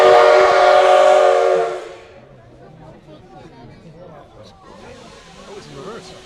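A Shinkansen bullet train's loud whistle blows for about two seconds as it starts to move, then fades into quieter rumbling and chatter as people talk nearby.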